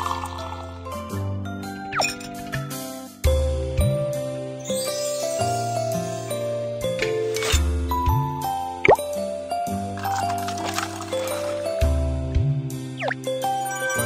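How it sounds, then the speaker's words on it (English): Hot water pours over rose tea leaves in a cafe cooking video game, giving soft plops, drips and tinkling splashes over light background music. "Pour some hot water to open the leaves."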